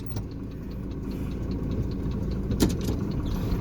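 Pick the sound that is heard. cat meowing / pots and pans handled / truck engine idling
truck engine idling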